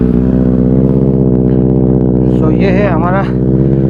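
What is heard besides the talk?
Benelli 600i motorcycle engine with IXL X55 double exhaust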